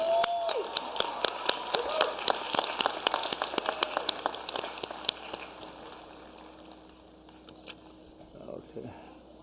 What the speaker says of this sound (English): So let's please give him another round of applause.